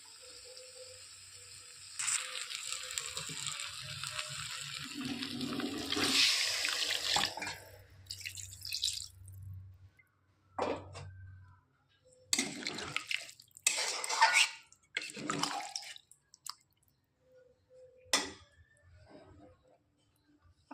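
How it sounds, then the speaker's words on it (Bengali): Water is poured into a cooking pot of egg curry with potatoes, peas and green chillies, heard as splashing and trickling that comes and goes in irregular bursts, with quiet stretches between pours. "এবার দিয়ে দেবো আমি জল।"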